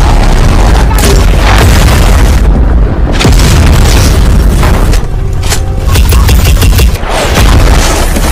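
RPG fire in an action film: heavy booming explosions and gunfire crowd a dense, very loud battle soundtrack, with blasts rolling one after another and brief dips between.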